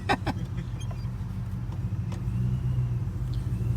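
A supercharged Chevrolet Silverado pickup with a ProCharger intake rumbles steadily at close range as it pulls away, the engine drone building slightly toward the end.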